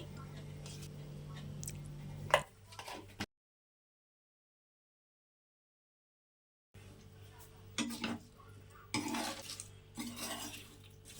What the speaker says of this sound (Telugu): 3 టేబుల్ స్పూన్ కారం, 1 పించ్ పసుపు, సరిపడా సాల్ట్ వేసి బాగా మిక్స్ చేయాలి.